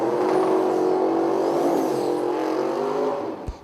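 A single-turbo small-block drag race car engine, a 1968 Camaro among the cars, drones loud and steady close by for several seconds, then tails off near the end with a short sharp pop.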